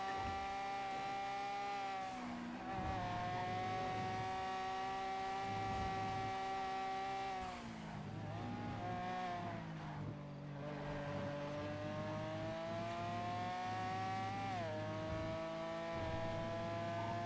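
A car speeds in GTA V, its engine a sustained high-pitched whine that rises and dips with each gear and throttle change, running continuously and steadily with no talk.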